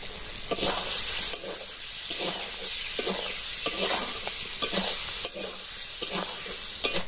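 Raw mango pieces fry in a pan with a steady close sizzle, while a spatula stirs them in repeated scraping strokes that come at a fairly regular rhythm, with no voices.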